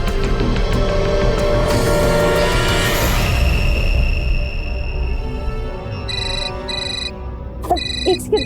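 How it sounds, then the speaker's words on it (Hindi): A phone rings with repeating electronic tones in short bursts, first over a loud rumbling background, then more clearly as the noise fades. "एक सेकंड, मेघा का फोन।"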